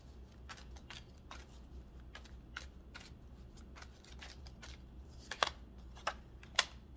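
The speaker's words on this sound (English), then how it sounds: "while I was shuffling" Tarot cards shuffled by hand in a quiet room, a run of soft, crisp riffling flicks in an irregular rhythm, close and fairly faint, with a couple of sharper snaps near the end and no talking.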